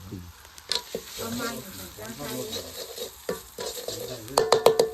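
Chicken pieces coated in turmeric are stirred and fried in a handleless pan, giving a steady sizzle with repeated scraping stirs and a few sharp metallic clinks of utensil against pan near the end.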